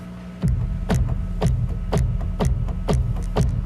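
Korg Minilogue synthesizer playing a short-envelope patch that mimics a kick drum, a punchy low thump repeating about twice per second over a steady hum, eight hits with no talking.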